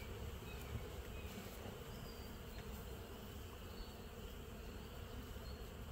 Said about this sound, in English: quite a few bees up here eating on top of it.